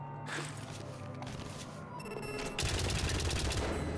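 Rapid turret gunfire in the video game White Knuckle, dense and continuous, growing louder and busier partway through with sustained crackling bursts.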